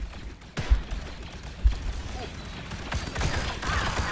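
Bursts of gunfire in the VR shooter Contractors VR, with sharp shots landing in short clusters amid game noise, moderately loud and with no talk over them.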